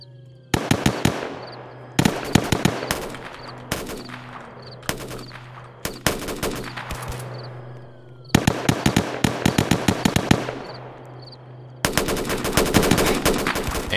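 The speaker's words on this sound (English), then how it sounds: "now he's shooting at us. Shots fired, shots fired. Tech 9." Tech 9 gunfire in a Roblox police patrol game: loud rapid bursts of automatic shots in several separate volleys, each with short sharp cracks and a brief echoing tail.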